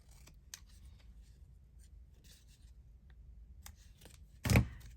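Scissors trimming craft paper at a quiet crafting table, with soft faint snips and rustles followed by one sharp, louder cut near the end.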